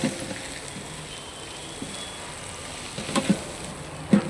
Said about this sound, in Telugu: అల్లం పేస్ట్, ఉల్లిగడ్డ వేగినాయి, అల్లం పేస్ట్ వేసుకుంటాం.